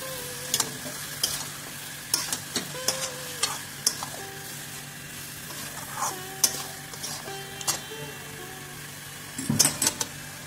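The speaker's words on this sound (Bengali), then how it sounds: "মশলা দিয়ে মাংসের সাথে কষিয়ে নিচ্ছি।" Chicken sautés with spices in a pan, a soft steady sizzle broken by regular sharp scrapes and knocks of a spatula, louder clatter near the end, with no voices.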